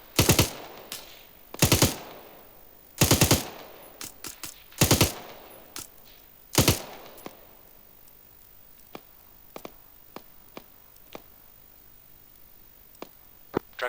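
Bursts of machine gun fire from a military hostage-rescue video game, several loud rapid volleys in the first seven seconds, then scattered sharp single shots and clicks trailing off.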